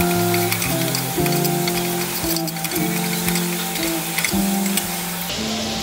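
Garlic sizzles steadily in hot oil in a pan while being fried to brown, close and continuous, with repeated scraping and stirring strokes and no voices.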